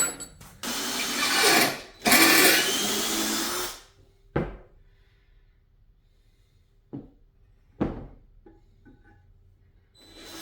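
A drill bores into a Volkswagen engine case oil passage for a pipe plug, running in two loud, close bursts of a few seconds each, followed by quieter scattered knocks and taps.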